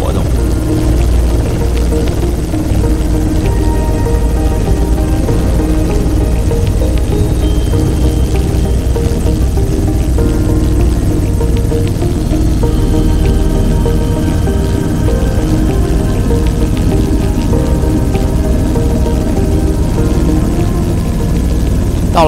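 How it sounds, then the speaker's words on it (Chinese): A helicopter on a sightseeing flight over Cairns climbs from sea level, its loud, steady rotor throb and engine drone filling the cabin without a break and drowning out everything else. "才发现直升机的噪音太大，什么都听不见"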